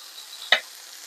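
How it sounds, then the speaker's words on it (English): A steady hiss of chicken frying in olive oil in a pan runs throughout, with one brief louder scrape or crackle near the middle. "now that's nice and sizzling"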